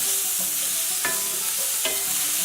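Fresh ginger fried and stirred in a hot pan for a ginger steak and peppers dish, with a constant loud sizzle and two sharp spatula scrapes against the pan, close by and without speech.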